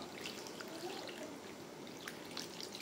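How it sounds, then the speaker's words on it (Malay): Water pours steadily into a pot of boiling seafood soup broth, a faint continuous splashing trickle with small bubbling drips throughout. "Kita tambahkan air lagi untuk kuah."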